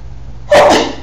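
A single sharp sneeze bursts out midway through near-silence, loud and close, trailing off quickly.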